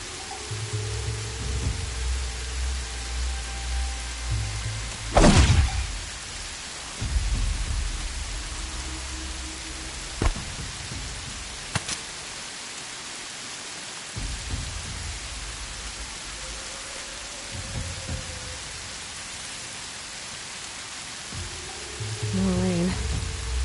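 Steady rain hisses throughout a scene in the video game Horizon, with a few sharp transient knocks, occasional low rumbles and soft game effects layered over the constant downpour.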